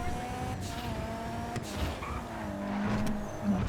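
Vehicle driving in the video game Crates, a steady engine drone with tonal whine rising and shifting, brief transient bursts, continuous and fairly close, no talking.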